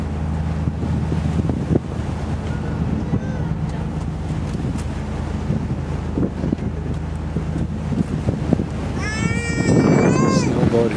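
Wind on a harbor cruise boat on San Francisco Bay, a continuous low rushing and buffeting with engine-like hum, while people talk nearby and a voice rises near the end.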